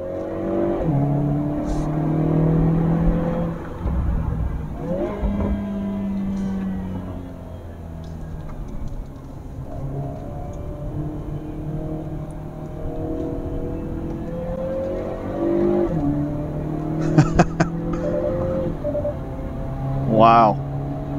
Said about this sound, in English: doing a bit of a hill climb now. I've got it in manual mode so that I can shift gears manually with the paddle shifters.